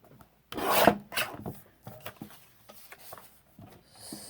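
Paper being trimmed for a planner journal, a loud scraping cut at first followed by quieter intermittent rasps and rubs, close and alone.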